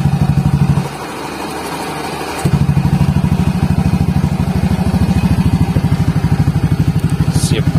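Honda Beat scooter, a 2020–2022 model, idles on its stand fitted with a TZM aftermarket exhaust and dB killer, giving a steady, close, even putter that briefly dips before settling back into a constant rhythm.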